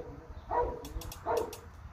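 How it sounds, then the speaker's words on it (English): Dog barking in the background of an indoor room, two muffled barks about three quarters of a second apart, each followed by a brief whine, moderately faint. "I'm gonna go throw a treat to the dog so she stops barking in the back of the video."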